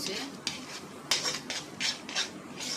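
A spatula stirs beaten eggs into kothu parotta in a metal pan, making soft rhythmic scrapes, about seven strokes in under three seconds, fairly quiet and with no talk over them.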